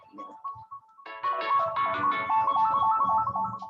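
A mobile phone rings with a bright melodic ringtone during a spoken lecture, a few soft tones at first, then a fuller, louder tune repeating steadily for several seconds.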